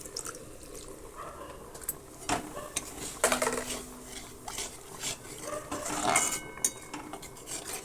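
A utensil stirs vegetable khichuri in a cooking pot, with repeated scraping clinks and knocks against the metal and wet, sloshing mixing sounds close by.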